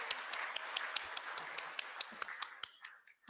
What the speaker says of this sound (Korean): 열광적인 박수를 부탁드리겠습니다